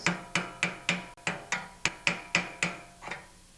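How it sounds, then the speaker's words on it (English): Sharp metallic taps from a hammer striking a chisel against a metal key on a Toro snowblower auger, about a dozen evenly spaced blows in a steady rhythm, close up. "I'm going to use a hammer and a chisel, but I'm not going to pound the key too hard"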